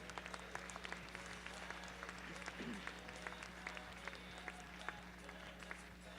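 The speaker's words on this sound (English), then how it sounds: "take them all out with a nice round of applause." Faint spectators applaud at a registered mare cart class at a horse show, a thin scattered patter of clapping over a steady hum, distant and soft.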